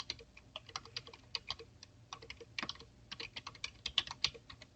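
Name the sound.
typing an email address on a computer keyboard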